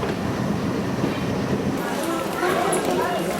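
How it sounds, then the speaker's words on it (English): A train pulling into Dehradun station in the cool morning, its wagons rumbling and clattering on the rails at moderate distance, with a faint squeal of wheels near the end and a voice speaking over it. "In the crisp, cool morning air, their train pulled into the Dehradun station."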